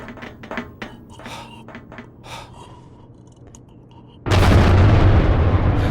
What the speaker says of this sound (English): A small vent, a few sticks of dynamite, and a minor explosion.